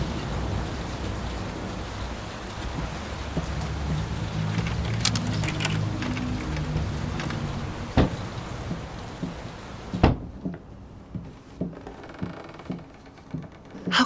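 A storm in the horror game Layers of Fear brings heavy, steady rain with low thunder rumbling beneath it, then thins into scattered, distinct drips and spatters.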